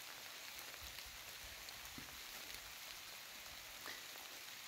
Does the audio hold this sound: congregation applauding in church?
no